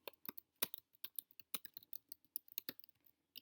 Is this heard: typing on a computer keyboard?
yes